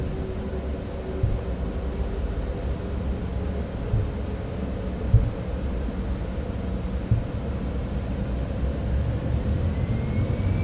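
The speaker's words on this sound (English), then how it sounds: "Takeoff thrust set." Cessna Citation X business jet engines spooling at takeoff thrust in Microsoft Flight Simulator 2024, a steady broad roar with a low rumble, continuous and moderately loud with no voices.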